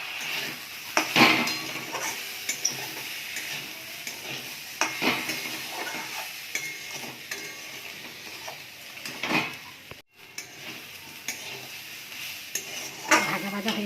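Green peas frying in a pan with turmeric, green chilli and salt: a soft sizzle runs underneath while a utensil stirs and scrapes, with sharp metallic clinks against the pan at irregular intervals.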